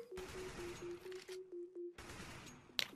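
Bursts of CS:GO gunfire crackle in rapid, close bursts separated by short silences, with a sharp click at the end.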